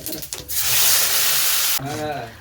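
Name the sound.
spice paste sizzling while being sautéed in a pan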